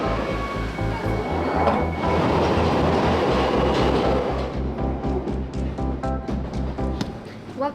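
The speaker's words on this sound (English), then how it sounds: "from aboard this awkwardly silent but still bouncy Northern Line train" A London Underground Northern Line train rumbles and rattles along the tracks with rhythmic clatter, then slows with squealing, whining tones near the end.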